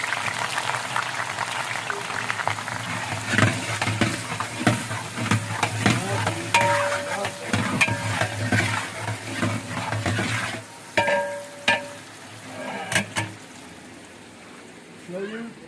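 Onions frying in hot mustard oil for a chicken korma, a steady crackling sizzle with stirring scrapes, then quieter bursts of spitting toward the end.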